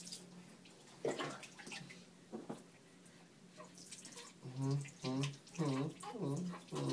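Running water during a first shower, a soft, steady stream and splashing, with a person talking over it in the second half.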